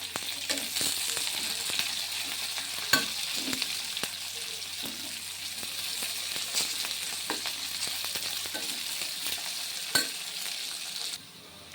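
Curry leaves and onions fry in a pan of oil for a potato fry, a steady close sizzle broken by scraping stirs, with no talking.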